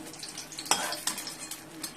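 Pointed gourd (potol) slices fry in a pan, giving a soft, steady sizzle with a few sharper scrapes and clinks of a utensil against the pan.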